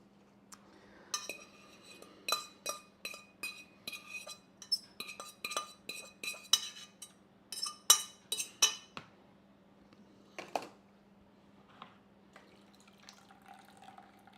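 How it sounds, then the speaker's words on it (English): A metal spoon scrapes and clinks against a roasting pan while a Sunday roast is cooked, in a run of sharp, close scrapes and taps with short pauses over a faint steady hum, with no talk. "Sorry if you hate scraping noises."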